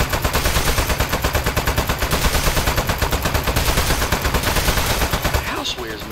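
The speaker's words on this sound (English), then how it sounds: "Stop shooting me, it's not nice." Rapid, steady gunfire from the Aperture Desk Job video game, a loud rhythmic burst of repeated shots that runs for several seconds and then cuts off near the end.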